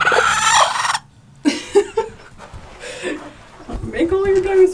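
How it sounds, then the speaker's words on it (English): Chickens in a backyard coop cluck and squawk loudly up close, with bursts of agitated hen calls and someone talking to them in between. "now let's go see what's going on with the chickens"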